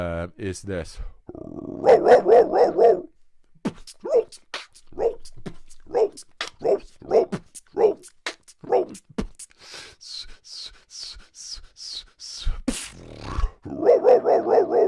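A beatboxer's voice imitates a dog, producing a run of short, sharp barks and growly yelps in uneven bursts, close and loud, with a brief spoken phrase among them.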